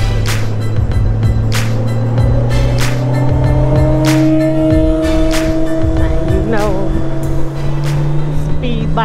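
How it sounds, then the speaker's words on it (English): Motorcycles and race cars pass on a mountain road in North Georgia, loud engines droning and revving as vehicles go by in a steady stream, with several sharp bursts and a rising whine near the end. "bikers and race cars are all here"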